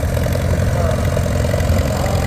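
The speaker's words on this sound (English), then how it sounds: "Looks like we've got another case, narrow front here" Vintage Case narrow-front tractor engine idles steadily up close, a continuous low chugging rumble with no pauses, heard at a vintage machinery club rally.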